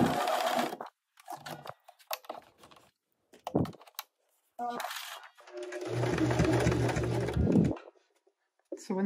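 A sewing machine back-stitches the entrance of a patch pocket in short stop-start bursts, then runs in one steady, fairly loud stretch before stopping, with a person speaking between runs.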